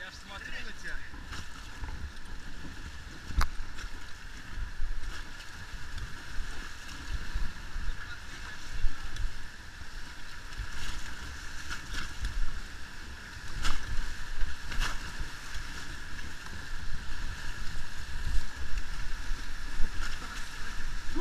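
Raft on the Seminsky rapid of an Altai river runs through churning whitewater, a continuous rushing roar with splashing surges and wind buffeting, steady and loud throughout without clear talk.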